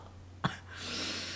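A single short cough, close and sharp, followed by a soft breathy hiss.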